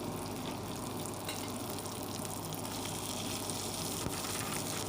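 Finely chopped greens fry in a pan at home, giving a steady, even, hissing sizzle that fills the whole stretch without pause or voices.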